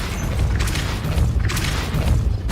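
Depulso force spell cast in Hogwarts Legacy: a loud, dense, rumbling burst of magic with repeated booming surges stacked over continuous game noise, and no voice over it.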